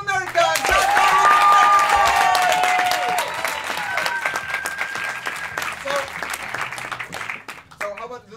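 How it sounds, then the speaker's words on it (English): Audience at an improv festival show in Paris bursting into loud, sustained applause that peaks early and then slowly thins out, with a host's voice calling out over the clapping. "Applause for the ladies!"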